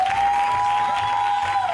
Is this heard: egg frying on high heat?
no